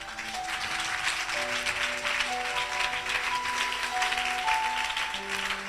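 A church congregation applauds in a steady, continuous round of clapping, with sustained organ or keyboard tones running underneath throughout.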